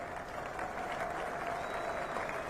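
Steady crowd applause at a Nottingham cricket Test match between England and India, broad and continuous throughout, with no talk over it.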